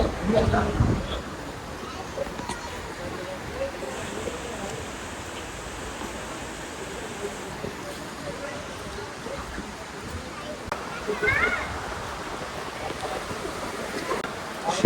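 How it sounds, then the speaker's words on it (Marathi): A waterfall beside a hillside temple sends out a steady, broad rushing roar that continues without a break, with people talking over it. "गाइस एक नंबर धबधबा"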